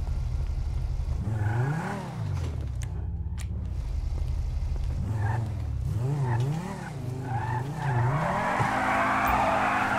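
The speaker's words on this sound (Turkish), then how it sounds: "Ara gaz yapayım şöyle." A Porsche in the video game GTA 5 revs its engine and squeals its tires, rising and falling engine whines repeating through the stretch with loud skidding, steady and close throughout.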